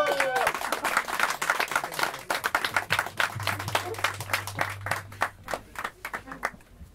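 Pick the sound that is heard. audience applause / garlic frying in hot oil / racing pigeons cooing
audience applause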